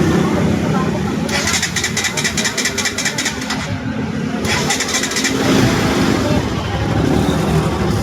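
A Kawasaki NS200 FI motorcycle with rocker arm, intake valve and chain tensioner damage starts up and settles into a steady idle, with a loud, continuous rumble and a rapid ticking burst near the start; someone talks over it.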